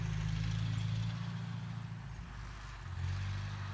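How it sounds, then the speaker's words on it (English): A tractor mows the grounds of an organic garden property, its low engine drone steady and moderately close, dipping slightly midway before swelling again, with no talk. "There's Aaron on the tractor doing some mowing."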